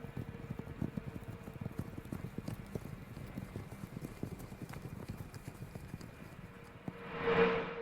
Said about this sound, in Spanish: se oyó el rumor de un caballo que se alejaba al galope